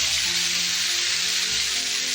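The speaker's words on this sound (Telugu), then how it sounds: "ఇలా ఆయిల్లో కూడా ఫ్రై చేసుకోవచ్చు" Brinjal, tomatoes and green chilies frying in oil, a dense, steady sizzle that stays loud and unbroken throughout.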